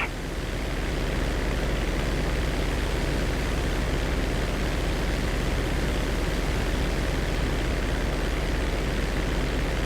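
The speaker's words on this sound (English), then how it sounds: "Cargo planes on my 12." Cargo plane engines in Grand Theft Auto V, a steady broadband roar with a deep low rumble that holds unchanged throughout, loud and continuous with no voices.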